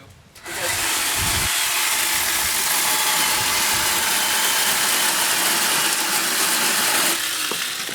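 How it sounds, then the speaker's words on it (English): A Sun Joe cordless telescoping pole chain saw starts up and cuts through a tree branch, a steady loud high whine holding for about seven seconds before spinning down, with no talk over it. "I'm going to show you one more cut"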